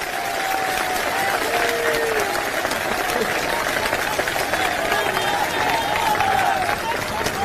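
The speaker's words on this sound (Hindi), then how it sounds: "एक बार जोरदार तालियां हमारी माताओं बहनों के लिए।" A large crowd at an Indian election campaign rally claps loudly and steadily, a dense wash of applause with scattered cheers and voices mixed in, lasting throughout.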